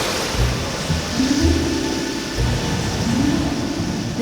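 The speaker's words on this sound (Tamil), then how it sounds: "உயரமான அலையும் பலத்த மழையும் பெய்கிறதே." Heavy surf of high storm waves crashing in continuous broad washes with a steady hiss of heavy rain, in an animated children's story, loud and close, no voices.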